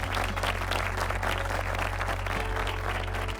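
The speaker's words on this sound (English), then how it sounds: "let's hear your applause, ladies and gentlemen, for them" An audience at an annual university convocation breaks into loud, sustained applause, dense clapping that continues evenly from start to finish with a low hum underneath.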